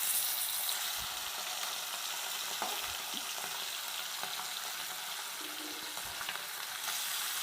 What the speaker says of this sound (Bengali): একটু ভালো করে ভাজা হয়ে গেছে, এবার এই দিকটাও ভালো করে ভেজে নেব।